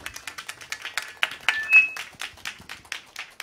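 A live show audience applauds a band, with dense, steady clapping from many hands at moderate distance that fills the whole stretch, plus a brief faint tone partway through.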